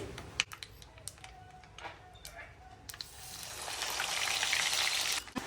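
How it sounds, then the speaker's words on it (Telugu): Ginger-garlic paste hits hot oil in a pan: a few sharp clicks and taps at first, then a loud, steady frying hiss that swells and holds before cutting off. "అల్లం వెల్లిపాయల పేస్ట్ వేస్తానా, సిమ్ముకు పెట్టి వేస్తానా"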